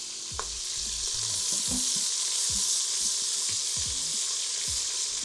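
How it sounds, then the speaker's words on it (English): Beef and bacon brown in a very hot Instant Pot, a loud, continuous sizzling hiss with soft scraping and stirring knocks throughout. "it should brown pretty fast because our Instant Pot is really hot"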